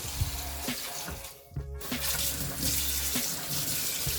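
Cold tap water runs steadily into a sink, a close hissing splash that briefly dips before flowing again.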